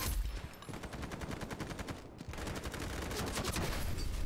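Rapid automatic gunfire from the online shooter Ironsight, dense rattling bursts close and loud, with a brief pause before the firing resumes and runs on steadily to the end.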